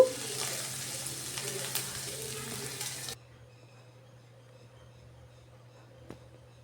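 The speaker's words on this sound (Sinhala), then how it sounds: "තෙල් ටික රත් වෙනකොට සුදු ලුණු එකතු කරගමු. දැන් ඉඟුරු ටිකක් දාගන්නවා. දැන් පොඩ්ඩක් කලවම් කරගමු." Garlic and ginger fry in hot oil while being stirred, a dense close sizzle with scraping stir sounds that cuts off abruptly halfway, leaving a quiet hum and one faint click.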